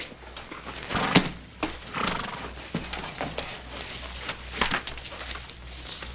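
A horse's loud whinny rises over rhythmic hoof clip-clops and shuffling, with more snorting and hoofbeats following close by.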